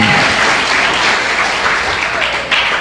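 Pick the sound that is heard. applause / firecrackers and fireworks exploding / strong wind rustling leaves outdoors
applause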